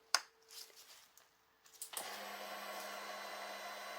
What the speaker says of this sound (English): see if we can hear this fuel pump going